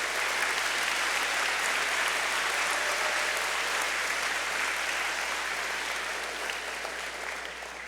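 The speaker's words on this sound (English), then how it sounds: "let's have a round of applause for all the judges that help us out" A banquet audience at the NIFA SAFECON 2023 claps for the volunteer judges, a thick, sustained roar of many hands that stays strong throughout and eases off slightly near the end.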